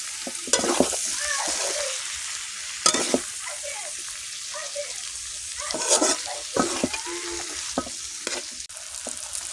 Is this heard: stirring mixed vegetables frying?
yes